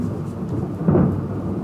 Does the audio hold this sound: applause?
no